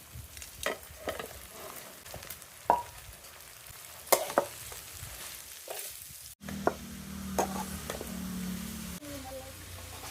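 Cabbage sizzles and fries in a pan, with intermittent clattering stirs and scrapes over a constant background hiss.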